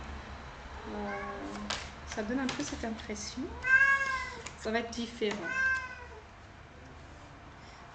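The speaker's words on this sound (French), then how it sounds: "je vais ouvrir la porte au chat qui fait du bruit" A cat meows repeatedly at a door, several drawn-out, rising and falling cries close by, mixed in with someone talking in French over a faint steady background hum.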